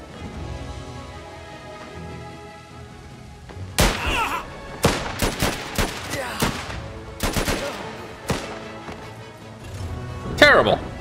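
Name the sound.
gunshots in the video game Last Train Home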